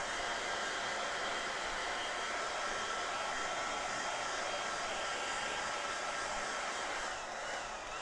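A hair dryer blows in a steady, loud, broadband whoosh for the full stretch, drying something completely, with no talking over it.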